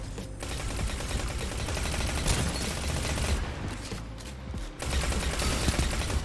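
Dense, continuous gunfire in the Destiny 2 video game, rapid loud bursts and shots layered almost without pause, with a brief dip near the end before the firing resumes.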